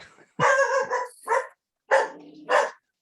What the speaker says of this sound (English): That dog hates us.